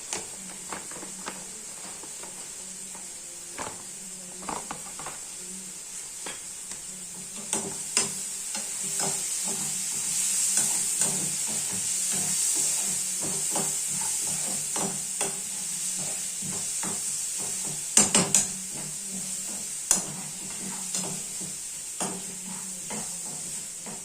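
Fenugreek seeds frying in a pan while being stirred, a steady hissing sizzle with repeated scraping clicks of the spoon throughout, close and alone.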